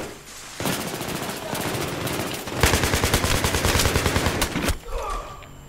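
Machine gun fire in the video game Battlefield 3 rattles in long rapid bursts, close and loud, with a brief pause before a denser stretch of automatic shots that stops abruptly.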